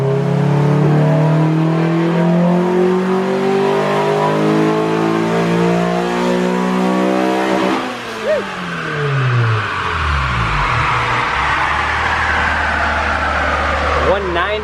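A turbocharged Honda VTEC car engine revving hard and accelerating through the gears, loud and close, with rising engine pitch, a shift near the middle and another climb, driven steadily without spoken voices.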